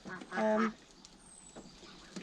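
A goose near a farm's chicken pens gives one short, nasal honk, followed by faint rustling and quiet background noise.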